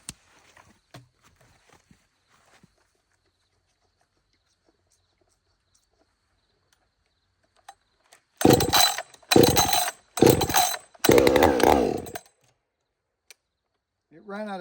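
Chainsaw fitted with a ported muffler roars in four short, loud bursts near the end, separated by brief pauses, after a long stretch of near silence.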